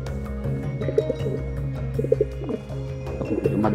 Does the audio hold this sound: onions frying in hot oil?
no